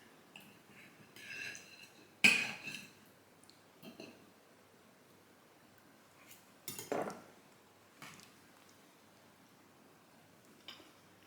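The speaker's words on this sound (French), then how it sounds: "je vais peut-être couper le burrata" Cutlery cutting into a burrata on a plate, a few sharp clinks of metal on ceramic scattered through an otherwise quiet moment, with faint rubbing and breathing between them.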